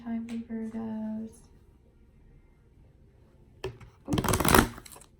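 Tarot cards shuffled by hand in two bursts, a brief riffle and then a louder, denser flurry, following a stretch of speech.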